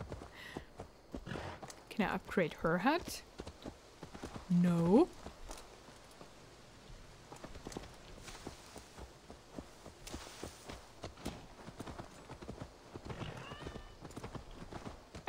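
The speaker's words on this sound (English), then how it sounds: "Let's take the horse. The weird pink horse." Horse hooves clip-clop at a steady walking pace while riding in the Assassin's Creed Valhalla video game, moderately loud under game music and sound effects, with a person talking over parts of it.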